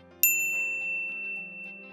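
A single bright notification bell ding strikes and rings out, its clear tone decaying slowly over nearly two seconds.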